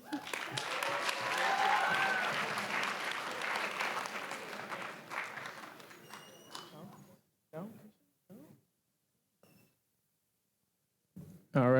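Audience applause at a school writers' week event, a loud sustained burst of clapping for about seven seconds that cuts off, followed by a few short bursts of speech.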